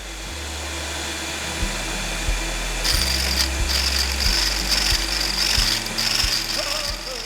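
Parkside PBSG 95 G6 drill bit sharpener running, a steady motor hum joined partway through by a series of brief grinding contacts as a bit touches the stone, fairly close and with no voices.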